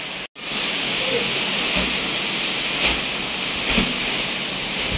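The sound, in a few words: howling storm wind during a cyclone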